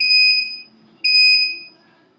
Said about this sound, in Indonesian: Nah udah tersimpan bip 3 kali.